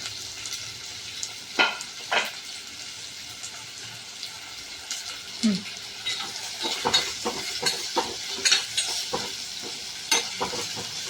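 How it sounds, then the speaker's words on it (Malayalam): Onions and shallots sautéing in hot coconut oil for a Kerala-style prawn roast, a steady soft sizzle broken by scattered stirring scrapes and clicks, close and moderate in level, with no talking. "സവാളയും ചെറിയ ഉള്ളിയും ചേർത്ത് വഴറ്റാം."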